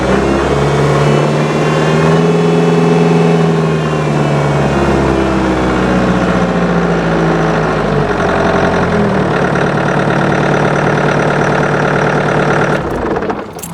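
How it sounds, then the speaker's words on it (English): A Kubota LX3310 tractor's common rail engine runs loud and close, a deep rumble that eases from a higher revving pitch down to a steady idle before a brief click near the end. "we're going to fire this up in a second. You're going to love it because it sounds like a true bred tractor"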